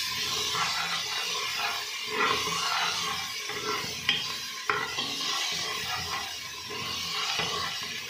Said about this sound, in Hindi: इसको अच्छी तरह भूनना है कि वो लहसुन का कच्चापन दूर हो जाए